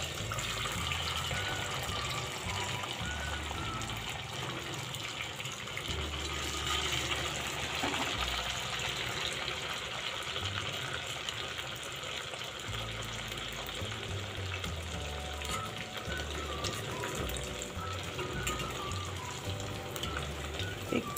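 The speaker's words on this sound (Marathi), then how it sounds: "साबुदाणा वडा तळण्यासाठी आपण मंद गॅसवरती आपण तेल छान तापवलेलं आहे। आता आपण बनवलेले वडे आपण यात सोडूयात।" Sabudana vadas frying in hot oil over a low gas flame, a steady, dense bubbling hiss that holds evenly at close range for the whole stretch with no voices.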